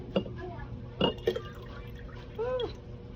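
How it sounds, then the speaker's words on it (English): Buttermilk poured off freshly made butter from a mason jar into another container, a short gurgling, glugging splash near the end after a few glassy knocks and handling sounds. "So I'm going to pour my buttermilk off"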